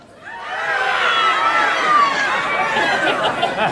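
A crowd at an outdoor summer show in a Jesolo piazza imitating a seagull call, many voices giving overlapping wavering squawks that swell in and sustain, mixed with some laughter.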